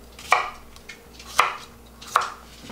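A knife chops a cucumber into 5 cm lengths on a cutting board, three separate crisp thuds at uneven intervals, close and clear with quiet between.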